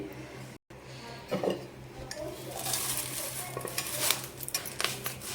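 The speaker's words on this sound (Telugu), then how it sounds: "ఇప్పుడు ఇదే బాండీలోకి కరివేపాకు వేసి వేపుకోవాలి." Curry leaves frying in a kadai with dried red chillies set aside, heard as a continuous soft crackle under repeated clinks and scrapes of a spoon stirring against the pan, close and moderately loud.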